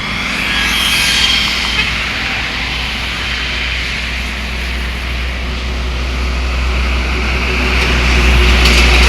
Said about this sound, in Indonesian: Ini ada truk ekspedisi ya